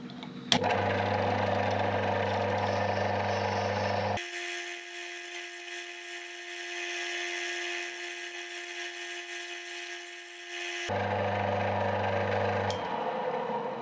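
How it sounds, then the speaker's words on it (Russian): A steady, close mechanical whir of a lathe drilling a 4 mm hole into metal, with constant tonal hum that shifts pitch for a long middle stretch, then returns. "Сверлю отверстие диаметром 4 мм."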